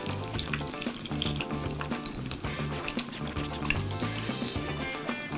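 Ingredients for cauliflower soup fry in a pan with a steady, close sizzle that runs the whole time, under what sounds like tonal background music.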